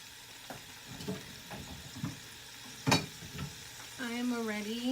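Garlic fries in oil in a pan with a soft, crackling sizzle and a few clinks and scrapes of stirring, a voice speaking briefly at the end over the cooking.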